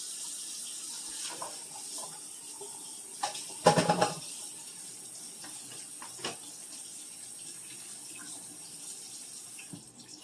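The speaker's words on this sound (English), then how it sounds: "And let the water run on it for just about a minute." Steady running tap water splashing in a sink as canned vegetables are drained and rinsed, with a few clattering bumps and a brief louder knock partway through.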